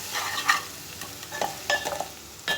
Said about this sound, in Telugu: ఇవి ఒక 10 మినిట్స్ వేగనిద్దాం